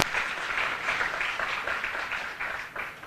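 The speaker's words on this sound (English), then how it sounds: "Give a big round of applause." An audience at a spiritual talk claps together in a steady burst of applause, a dense rippling patter that fills the room, moderately loud throughout and slightly fading toward the end.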